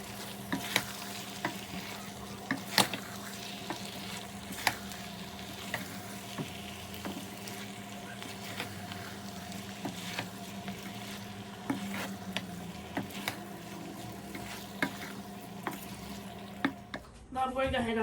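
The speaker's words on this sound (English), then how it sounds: "I'm going ahead and putting in 400 grams of boiled pasta" Boiled pasta, 400 grams, is stirred through a sizzling frying pan, with a constant fry hiss and repeated scraping knocks of the spoon against the pan, close by.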